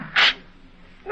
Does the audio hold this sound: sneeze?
yes